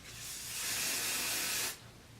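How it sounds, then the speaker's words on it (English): A single steady hiss of aerosol hairspray lasts just under two seconds, close and fairly quiet, then cuts off cleanly into a soft background. "I'm going to once again go ahead and spray"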